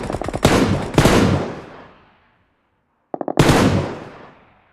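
Gunfire in the PUBG video game during a grand-final duo tournament: two loud single-fire shots in quick succession with long decaying echoes, a pause, then a short burst of rapid pops followed by another loud echoing shot.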